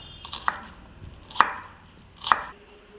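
A knife chops finely through peanut chaat ingredients on a board: three crisp, evenly spaced cuts, close and fairly quiet, over faint background hiss.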